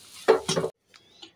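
A spoon briefly stirs and scrapes fried spices into cheese-corn vegetable chop filling in a pan: two quick, close scraping strokes, then a few faint taps.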